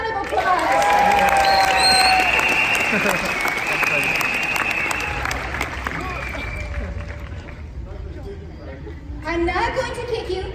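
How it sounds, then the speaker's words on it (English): A Las Vegas audience bursts into loud applause and cheering for volunteers, thick clapping at first that gradually thins and fades, then picks up again briefly at the end. "Give them another round of applause."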